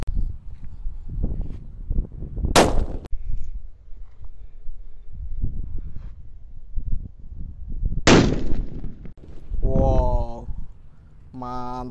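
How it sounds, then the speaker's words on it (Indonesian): Colorful sweater firecrackers set off one at a time outdoors during a pre-dusk Ramadan gathering, giving two sharp, loud bangs a few seconds apart over steady background chatter, with a whistling tone near the end. "Lanjut di sini ada mercon colorful sweater. Kita nyalakan 1 biji guys."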